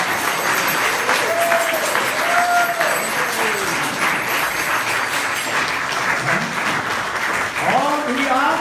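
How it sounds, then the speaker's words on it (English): A generous round of applause fills an evening class gathering in Walthamstow, London, with continuous dense clapping carrying throughout and voices calling out and talking over it. "I'd like to thank Srila Bhaktivinoda Maharaj by a round of generous applause."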